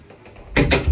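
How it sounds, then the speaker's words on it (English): An indoor door swings shut partway through, a loud close impact at close range after quiet room noise, with a second thud following soon after. "let me close this door"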